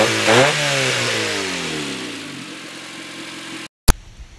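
A rusty Honda Del Sol race car engine revs hard, then the pitch glides down as it falls back toward idle, close and loud, before cutting off, with a sharp clack just after.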